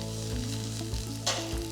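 Sliced carrot and beans fry in hot oil while preparing veg kolhapuri, a steady close sizzle with a brief stir partway through, no voices.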